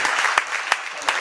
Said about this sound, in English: give our deacons a hand clap of praise.